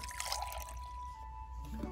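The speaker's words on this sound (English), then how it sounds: "Let's pour some into her sippy cup." An electrolyte drink is poured into a child's sippy cup, a brief, quiet trickle of liquid with a faint steady tone running underneath.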